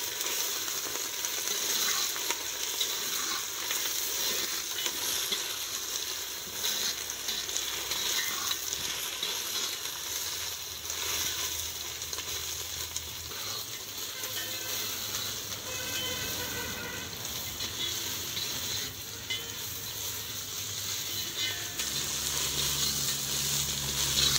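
Nutri soya chunks frying in a pan on a mud stove, a continuous close sizzle with occasional stirring scrapes and clinks throughout.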